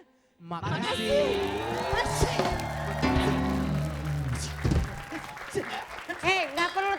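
Studio audience applause on an episode of the comedy show CLBK, a sustained burst of clapping mixed with a man's sung and spoken lines over it, then fading into scattered claps.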